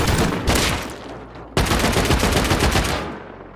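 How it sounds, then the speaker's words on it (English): A shotgun trap fires in a video game raid, two loud blasts of gunfire with rattling decay, the second sharper and followed by a sustained burst, close and clear. "there's another shotgun trap!"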